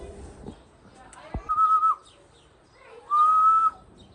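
Two sustained whistles from a person calling racing pigeons, each about half a second long, with a pause between them and a few quiet voices around.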